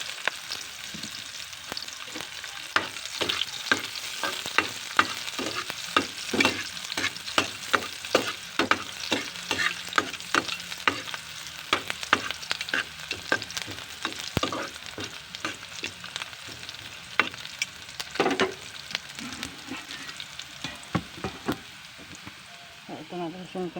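Onions added to a hot frying pan, giving a crackling sizzle with rapid sharp pops and spatters that continue steadily close by, with no voices over it.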